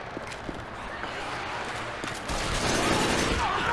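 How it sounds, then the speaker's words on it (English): Rifle fire in Left 4 Dead 2 rings out as rapid, close shots over dense, noisy game action, with the din growing louder partway through. "I'm gonna go with my rifle."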